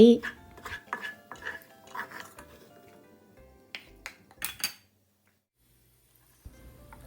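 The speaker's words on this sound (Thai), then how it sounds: "จากนั้นลดไฟลงแล้วตักกระเทียมขึ้นพักไว้" Metal utensils scraping and clinking in a pan while scooping fried garlic out over lowered heat: a burst of close scrapes and taps that thins into a few sharp clinks, then falls silent before a faint low hum returns.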